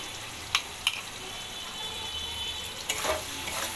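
Soybean curry with chopped tomato and a spoonful of flour being stirred in a frying pan, a soft steady sizzle broken by a few sharp scrapes of the spoon against the pan.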